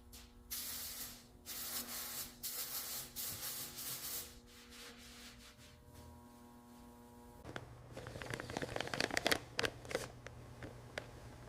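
Clear coat finish sprayed onto a walnut wood piece, heard as bursts of hissing spray with short pauses, then rubbing and scraping handling sounds, close and fairly quiet.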